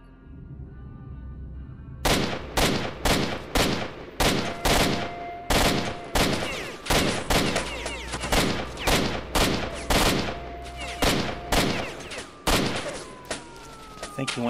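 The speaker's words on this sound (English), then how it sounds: "as soon as I start shooting, it's going to alert everybody." Gunfire in the video game S.T.A.L.K.E.R. Shadow of Chernobyl: a steady series of loud, sharp gunshots in quick bursts and single shots over about twelve seconds, close and dominant.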